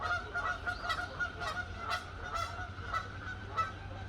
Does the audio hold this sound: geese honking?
yes